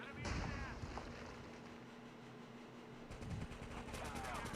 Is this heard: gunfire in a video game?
yes